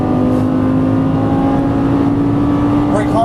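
A Lamborghini Gallardo LP550 engine drones steadily at constant pitch after an upshift, then rises sharply at the end as it accelerates, loud and close.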